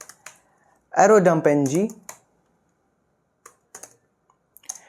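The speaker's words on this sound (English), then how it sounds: "we will just type a command" A few scattered clicks come from typing a command on a computer keyboard during a WiFi hacking workshop. A brief spoken phrase sits between them, and the keystrokes come sparse and light, mostly after the voice.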